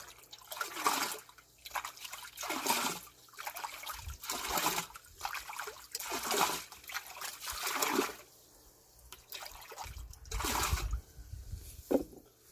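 Jadam sulfur solution pours into a spray tank, a wet trickling and splashing stream that swells and fades in repeated bursts, close by, with a low rumble near the end.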